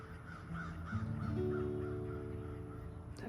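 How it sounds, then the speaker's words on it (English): A crow caws in a rapid series of harsh calls, fairly close and clear over a quiet background with a faint steady hum. "That crow had opinions."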